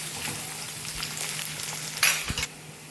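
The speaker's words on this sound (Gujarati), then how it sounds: "એ અંદર નાખી દઈશું તેલ અને આને સાતળવા દેવાનું છે થોડી બ્રાઉન જેવી થાય ને ત્યાં સુધી" Chopped onions fry in oil for masoor pulao, a low steady sizzle with a brief burst of louder stirring and scraping near the end.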